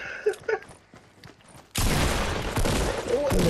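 Fortnite Battle Royale gunfire: a couple of sharp shots early, then a sudden loud sustained burst of dense rapid firing that carries on to the end, close and dominant.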